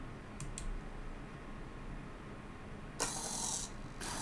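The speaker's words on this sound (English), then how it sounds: "As you can see, the servo motor is rotating at 180 degree." A Raspberry Pi pet feeder's servo motor swings through 180 degrees, giving a couple of quick faint clicks early on and then a brighter whirring buzz of movement near the end, close and quiet.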